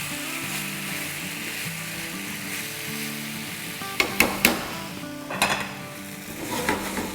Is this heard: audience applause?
no